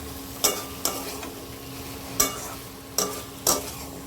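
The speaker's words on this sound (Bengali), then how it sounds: "এরপর এখন দিয়ে দেবো হচ্ছে আমি এই যে সেদ্ধ করে রাখা কাবলি ছোলা, দিয়ে এটাকে একটু ভালো করে নাড়াচাড়া করবো।" A spoon scrapes through boiled chickpeas with spices in a pan, giving five sharp stirring knocks spaced irregularly over a soft background sizzle, close and fairly quiet.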